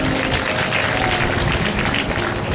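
A crowd at a devotional religious gathering claps continuously, a dense, loud wash of applause that holds steady without pause.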